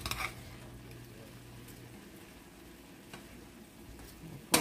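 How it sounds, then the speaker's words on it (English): Pork and vegetables frying in a pan as they are stirred, a quiet, steady sizzle with soft scraping and a brief clatter at the end. "So I'm going to give this a stir"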